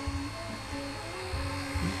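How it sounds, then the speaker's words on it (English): A small radio-controlled model helicopter flies nearby, giving a steady whirring buzz with a faint whine. The sound holds level and continuous, with a slight swell near the end. "I like this little helicopter"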